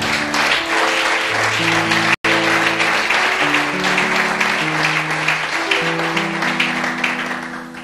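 A church congregation applauds loudly and continuously in a large hall, with dense clapping mixed with sustained organ or keyboard chords.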